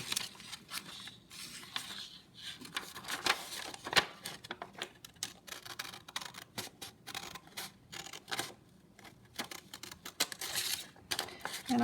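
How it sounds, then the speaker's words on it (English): Scissors snip through paper while a craft coffin is being cut out, giving quiet, close, irregular clicks and crisp cuts in quick bursts with small gaps between. "So what I do is slide my scissors in there."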